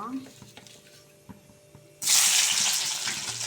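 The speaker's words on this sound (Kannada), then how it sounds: "ಇವಾಗ ಬೆಳ್ಳುಳ್ಳಿ ಹುರ್ಕೋಬೇಕು" Garlic dropped into hot oil for bitter gourd gojju bursts into a loud, steady close sizzle after a couple of seconds of quiet kitchen clinks and faint background talk.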